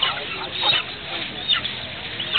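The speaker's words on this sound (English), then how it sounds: "beautiful little ducklings" Ducklings for sale at the Sunday Bazaar in Karachi make brief nasal honks and calls in a noisy outdoor market.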